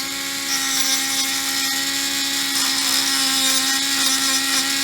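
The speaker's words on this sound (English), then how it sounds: "I put a sander on here, and what I did is I rigged up some pliers, and I'm going to sand that rough back end." A rigged-up power sander grinding the rough back end of a small metal part, producing a continuous loud, steady high-pitched whine at close range with no speech.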